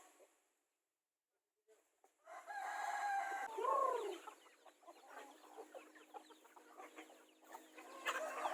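Chickens cluck and a rooster crows nearby, with continuous hen chatter and scratchy background noise following the crow.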